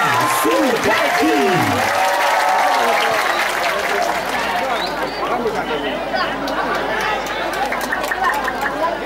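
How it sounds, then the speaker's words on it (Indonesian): A crowd at a Baleganjur gamelan competition in Sudaji village, Bali, bursts into loud, sustained applause and cheering, dense clapping mixed with chatter and an amplified announcer's voice at the start. "Berikan tepuk tangan yang meriah sekali lagi untuk Sege Beleganjur Desa Sudaji."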